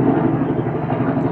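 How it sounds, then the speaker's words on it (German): A very loud helicopter passes overhead, filling the clip with a steady, heavy rumbling drone that holds constant throughout, with no voices present. "Ein sehr lauter Hubschrauber."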